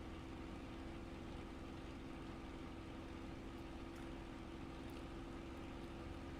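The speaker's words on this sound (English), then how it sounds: "The engine's leaning out." A Spitfire engine in Microsoft Flight Simulator drones steadily while flying inverted and leaning out, a constant loud hum with a fixed tone and no pauses.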